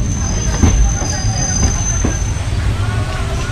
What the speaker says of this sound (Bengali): তো ধুলিয়ানা গঙ্গা স্টেশনে ঢুকছে এখন আমাদের ট্রেন।